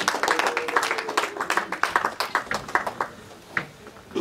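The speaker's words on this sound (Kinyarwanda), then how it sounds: "Wongere mu bahunda amashyi y'umuhundo" Wedding guests clap in a quick, rhythmic pattern of sharp, close hand claps, loud and evenly paced before thinning out near the end.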